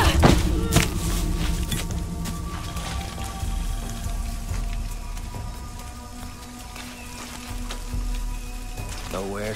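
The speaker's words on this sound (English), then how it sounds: "This rain is unreal." Heavy rain pours down steadily in Shadow of the Tomb Raider, a dense close hiss of drops on surfaces with occasional thuds and soft game tones mixed in.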